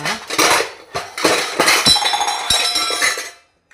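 A metal cooking pot and its lid clinking and clattering together in a few quick, bright bursts of ringing contact, close and fairly loud, ending in silence with no talk.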